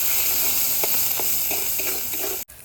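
Black mustard seeds, cumin and ginger fry in hot oil with a steady close sizzle and hiss, dotted with faint pops and stirring clicks, then a sudden brief cut near the end.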